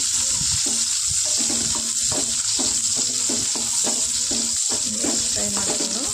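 Garlic frying in a pan for a Karnataka-style moringa leaf upsaaru, with a steady hiss of sizzling and repeated scraping stirs at a brisk rhythm, close and moderately loud, with no talk.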